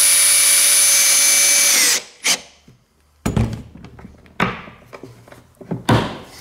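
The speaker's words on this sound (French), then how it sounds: "Tu mets les vis" Power drill driving screws into wood while building a Scandinavian-style table base, a sustained loud whine that stops abruptly, followed by several short knocks and handling thuds, with no talking.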